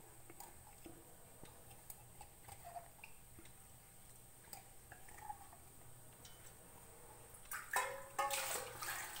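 Water is poured in to mix a ground sambar masala of sambar powder, coriander powder and coriander leaves for a pumpkin sambar. It comes as a brief splashing burst near the end, after a quiet stretch of faint ticks and small knocks.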